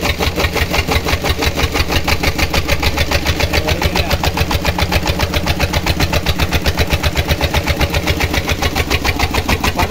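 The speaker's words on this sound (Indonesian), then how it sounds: "Coba dengarkan ya sahabat petani ya, bunyi mesinnya ya." A small diesel water pump engine runs close by while spraying water, a loud, even chugging with a fast steady pulse and no change in pace.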